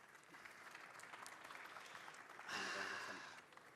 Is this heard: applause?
yes